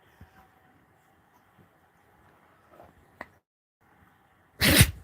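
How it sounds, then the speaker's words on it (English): A dog gives a single sharp, explosive sneeze near the end after a few seconds of quiet, faint background hum. "Did you just sneeze, big girl?"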